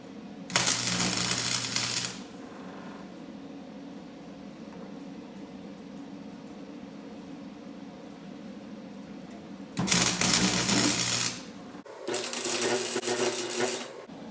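Tack welds fixing a fuel tank in place on an off-road riding mower: three loud crackling bursts of welding arc, about one to two seconds each, separated by quiet shop background.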